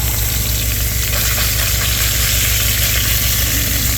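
Food browns and sizzles steadily in a 3-quart Instant Pot for spaghetti while it is stirred. A continuous frying hiss sits over a low steady hum, with no pauses and no voices.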